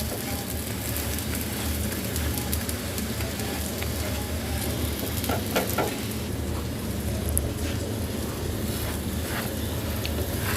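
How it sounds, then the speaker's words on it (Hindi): An egg paratha brushed with ghee cooks in a pan while it is pressed down, producing a loud, continuous sizzle with crackling bursts across the whole stretch. "और इस तरह प्रेस करते हुए इसको पकाएंगे"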